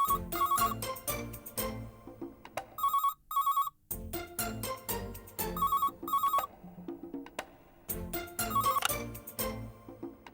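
A telephone rings for an incoming call with a repeating electronic ring pattern, its bursts broken by short pauses over about ten seconds, in a Tamil TV serial scene with no talking.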